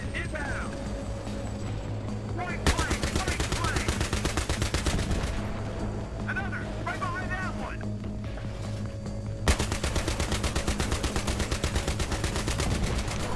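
Loud, dense automatic gunfire from the Battlefield 3 video game, rapid bursts rattling almost continuously with sharp louder volleys, under excited talk.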